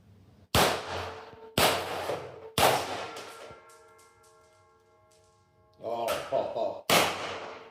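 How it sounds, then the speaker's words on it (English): A PX-68 airgun fires four sharp, loud shots, each with a ringing metallic tail, spaced about a second apart, followed by a pause and then a burst of handling noise and one final shot. "we're going to take some first shots here with the PX-68"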